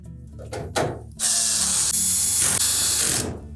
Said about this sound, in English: And then we'll secure that support bracket.